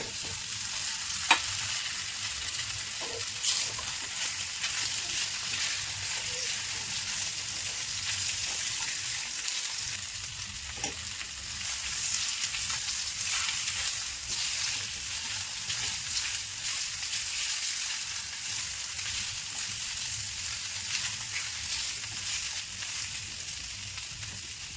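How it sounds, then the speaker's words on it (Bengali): Muitha pitha rice dumplings fry in refined oil in a wok, a continuous close sizzle with occasional soft stirring taps and small pops over about twenty-five seconds, no talking. "এখন পিঠাগুলো ভেজে নেব"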